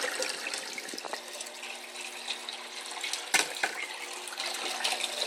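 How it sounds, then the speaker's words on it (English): Water splashes and trickles steadily into a 10-gallon aquarium sump refugium fed by a DIY PVC overflow pipe, a close, continuous bubbling with a few sharper splashes and no talking. "The only thing you hear is the water splashing"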